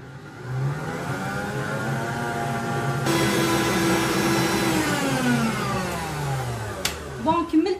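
An electric mixer beats cake batter for coconut basbousa, giving a loud, continuous motor whine close by. Its pitch shifts as the speed changes, with a step up partway through and clattering at the end.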